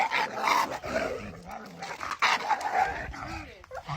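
Two leashed dogs meeting for the first time, with dense growling and barking throughout, close and fairly loud, while a voice talks over part of it.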